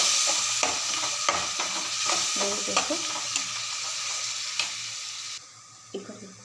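A spoon stirs tamarind gojju in a hot pan, steady sizzling frying broken by repeated scraping knocks against the pan, with the sizzle dropping away near the end.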